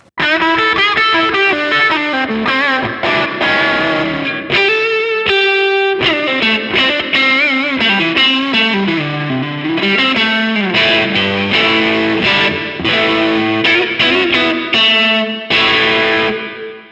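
A crunchy overdriven electric guitar plays a riff of chords and single notes through an amp's crunch channel, loud and saturated, with prominent reverb and no voices.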